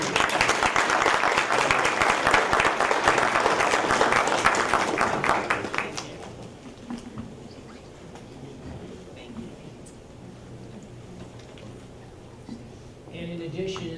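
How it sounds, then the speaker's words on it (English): Applause from the audience at a school board meeting, a dense burst of many hands clapping that lasts about six seconds and then fades into room murmur, with a voice coming in at the end. "let's give you a round of applause"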